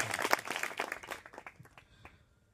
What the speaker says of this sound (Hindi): इनके लिए जोरदार तालियों के साथ इनका स्वागत होना चाहिए